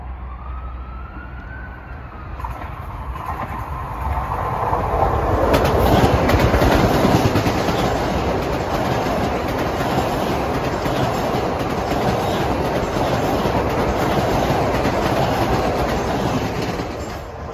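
A Long Island Rail Road train passes at Elmont on a clear day, rising from a quiet start into a loud, sustained rumble with clickety-clack of wheels on rail joints, holding close and steady to the end.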